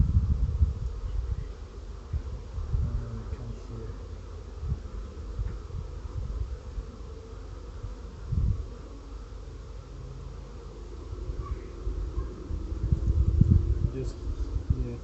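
Honey bees buzz steadily around a backyard hive, a low continuous drone close by, with a person speaking briefly over it.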